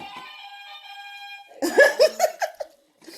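A sustained electronic buzzer tone sounds for about a second and a half, then a burst of laughter follows and fades out.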